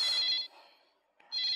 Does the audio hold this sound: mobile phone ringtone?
yes